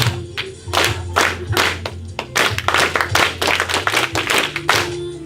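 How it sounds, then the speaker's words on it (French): A church congregation at a thanksgiving service claps hands in an uneven, lively rhythm over a low steady background, claps coming in quick bursts throughout. "clap, clap"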